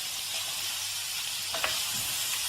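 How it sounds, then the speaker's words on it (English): Sliced red onion and chopped celery fry in a pan with a steady, close sizzle and hiss, plus a faint clink partway through. "followed by the sliced red onion and the chopped celery"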